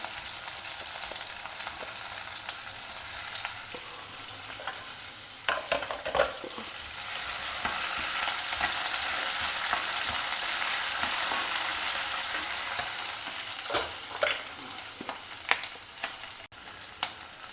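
Chopped potatoes frying in a pan for aloo capsicum sabji, a soft continuous sizzle that swells midway, punctuated by scattered scraping stirs, close but quiet, no voices.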